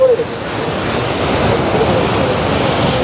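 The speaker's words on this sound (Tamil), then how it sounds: "நல்ல காற்றடிக்குது." Strong wind blowing at a coastal fort by the sea, a steady loud rushing roar buffeting the microphone, mixed with surf, unbroken for the whole stretch without speech.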